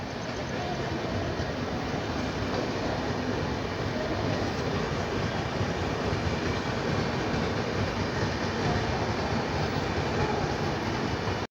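Passenger train on the Mumbai to Pune line through the Khandala ghat, a steady loud rumble and wheel clatter heard continuously from inside the carriage, with speech faintly under it.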